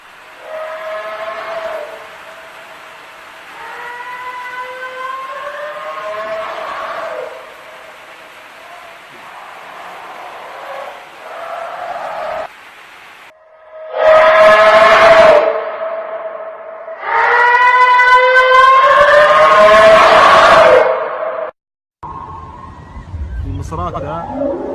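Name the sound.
mysterious whale sound heard from the Arabian sea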